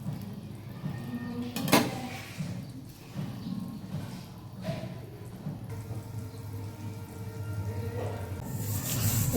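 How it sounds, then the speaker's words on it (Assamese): Dishes are being washed in a home kitchen: scattered clinks and clatters of utensils and pots, soft splashing water, and a louder knock near the start, all moderately close. "আৰু ভণ্টি বাচন ধুই আছে।"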